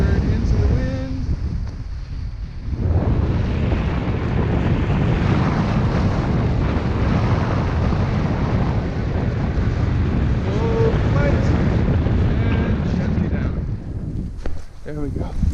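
Strong wind buffets the microphone at a cliff during a BASE jump, a heavy, continuous rushing roar that swells after a quieter opening and fades near the end, with brief talk at the edges.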